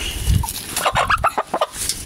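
A rooster and hens cluck up close, a quick series of short clucks and squawks following one another in an uneven rhythm.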